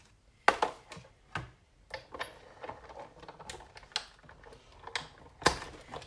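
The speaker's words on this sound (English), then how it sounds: "I'm going to run those through the die cutting machine and cut those out" A die cutting machine cuts shapes from stamped botanical-print paper scraps, giving sparse, irregular mechanical clicks and ticking knocks at close range, with no talking.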